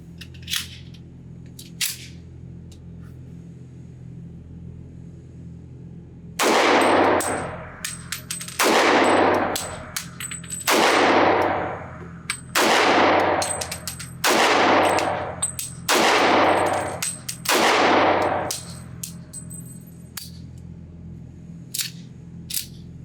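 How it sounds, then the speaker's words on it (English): Seven pistol shots from a Kimber Ultra Carry 1911 at an outdoor range, fired at a target seven yards away, each a sharp loud crack with a brief ringing tail, at irregular intervals of about one to two seconds over a steady background hum. "This is going to be the first magazine at 7 yards, shooting at an IDPA target."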